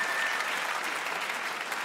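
A cabaret audience applauding in a Bavarian comedy performance, a sustained, even roar of many hands clapping that holds level for the whole short stretch.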